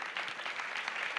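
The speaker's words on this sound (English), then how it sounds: "the amazing artists who created them deserve a round of" A round of applause at an international festival music program in Cabella, Italy, heard as a brief burst of dense, slightly distant clapping from an audience.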